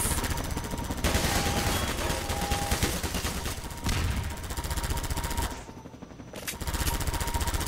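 Rapid machine-gun fire from a helicopter gunship in the Half-Life 2 video game, dense sustained bursts with short breaks and a brief dip near the end, loud and close.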